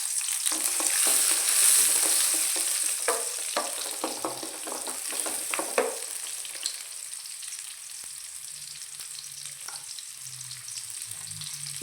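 Onion frying in hot oil for a spicy fish curry gives a steady, close crackling sizzle with occasional sharp spatters and stirring scrapes in the first half, then settles into a softer, even hiss.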